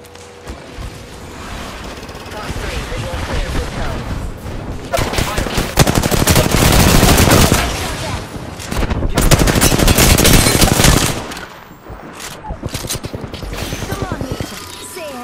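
Rapid automatic gunfire in Apex Legends while under fire, loud and close, with long rattling bursts, mechanical clacks and brief pauses between volleys.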